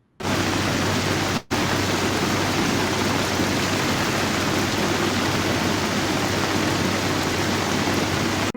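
Heavy rain pours in Chatra, Jharkhand, a loud, dense and unbroken wash of noise with one brief cut near the start.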